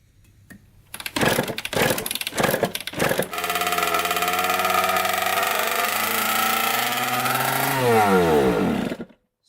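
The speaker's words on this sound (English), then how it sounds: "Try without the choke." A Kawasaki KX80 big bore two-stroke dirt bike engine, run without the choke and smoking, coughs through a few kicks, then catches and buzzes loudly and close at a steady idle, rises briefly, then cuts out abruptly as it runs out of fuel.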